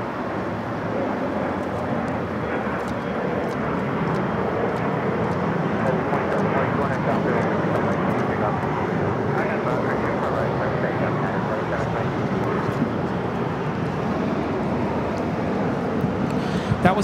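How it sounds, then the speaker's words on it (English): An Alaska Horizon Embraer E175 airliner in retro livery takes off at Los Angeles airport, a steady, loud jet roar sustained throughout with no distinct breaks. "That was Alaska Horizon 2183, taking off to Las Vegas on the E175 in the Horizon Retro livery."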